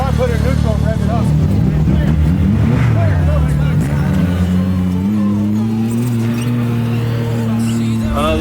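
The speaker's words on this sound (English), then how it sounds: "You can probably put it in neutral and rev it up." An off-road race car engine idles and revs in neutral, a steady low drone whose pitch climbs and holds. It stays loud and close throughout, with voices talking over it.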